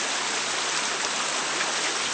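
Lukewarm water flowing in a spring-fed creek where watercress grows, a steady broadband rushing and babbling that stays close and even throughout, with no talk.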